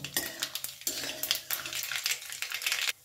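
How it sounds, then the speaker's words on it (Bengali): Two dried chillies and black mustard seeds splutter in hot oil, a close run of sharp crackling pops in bursts against a steady low hum, with a clatter of a utensil against the pan. "ভালো করে সরষেটা চমকে যাওয়া পর্যন্ত একটু অপেক্ষা করব।"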